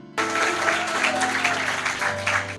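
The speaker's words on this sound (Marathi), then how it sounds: "जोरात टाळ्या वाजवा येशूसाठी" A church congregation at a live Marathi worship service breaking into loud, sustained applause, many hands clapping together in a dense wash, with a few voices and a faint musical tone underneath.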